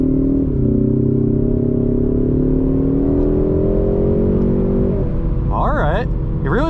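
A 2021-2022 Ford Mustang EcoBoost accelerating on a clear road, heard from inside the cabin as a loud, steady engine drone that rises in pitch, dips at a gear change around five seconds, then climbs again.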